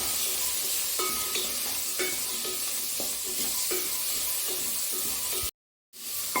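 Carrot and potato pieces sautéed in a pan for a green pea and potato curry, a steady sizzle with light stirring scrapes, then a brief drop to silence near the end.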